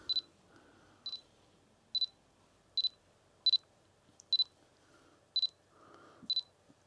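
Autofocus motor of a Canon EF-M 11-22mm wide-angle zoom lens, heard as eight short, quiet double whirrs repeating at a steady rhythm of about one per second, close up with no talk.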